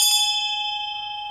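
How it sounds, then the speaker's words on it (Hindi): A single bell struck once near the start, then a clear sustained metallic ring slowly decaying on its own with no voices. "जिनके लिए घंटी बज रही है"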